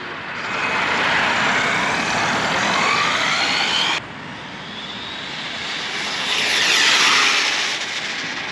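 A Traxxas 4-Tec 3.0 RC car on a speed run gives a loud, steady high-pitched motor whine that holds, dips suddenly, then rises again, with a broad rushing roar and no talk.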